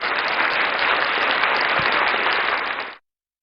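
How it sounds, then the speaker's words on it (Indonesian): A church congregation at a Sunday service applauds together, a dense, steady burst of clapping lasting around three seconds before stopping abruptly. "kasih tepuk tangan dong."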